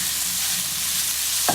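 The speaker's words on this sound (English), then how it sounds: "When it's nice and hot, I put my mince in. You can hear it sizzle." Beef mince sizzles in a hot pan, a steady, bright frying hiss holding close and loud, with a faint scrape near the end.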